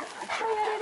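A big, drooling Newfoundland dog gives a brief, close whine or yip during play, lasting under a second with no talk.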